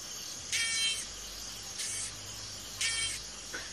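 Three loud, buzzing stridulation bursts from an insect stridulating like a cicada, each lasting under half a second, spaced about a second apart over a steady quiet hiss.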